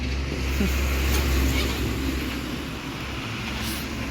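A car driving on a road in Ratnagiri, Konkan, heard from inside as a steady low engine rumble and road noise that stays even throughout, with no talking.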